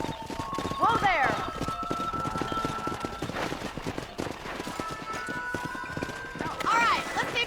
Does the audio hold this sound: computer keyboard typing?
no